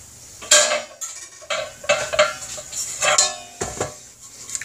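Metal pie pans handled in a home kitchen while making an Italian Easter meat pie, several close clanks and scrapes in uneven bursts with no talking.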